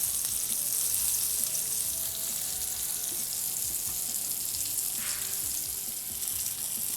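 Fish fries in a little oil in a pan, giving a soft, continuous sizzle and hiss close by with no talk.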